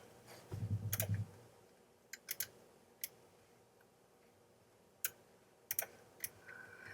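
Keys clicking on a computer keyboard while working on a design in Photoshop, heard as sparse, separate taps in small clusters at a quiet-to-moderate level, with a soft low thump early on and no talking.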